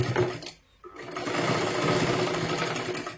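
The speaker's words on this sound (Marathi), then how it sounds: "आतल्या बाजूला एक शिलाई मारून घ्यायची आहे" A sewing machine stitches an inner seam on a katori blouse in fairly thick fabric, a loud steady mechanical whirr that stops for a moment and then resumes without a break.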